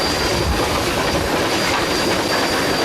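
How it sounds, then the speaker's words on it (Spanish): A steam-hauled long-distance train runs on rails in China, a loud, steady rumble with rattling wheel clatter and faint high squeal throughout, no voices. "La tracción vapor da servicio a muchos trenes de largo recorrido"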